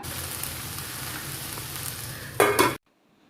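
Ivy gourd and long beans stir-fry cooking in a pan for a Kerala-style mezhukkupuratti, a steady close sizzle with a brief louder stirring burst near the end before it cuts to near silence.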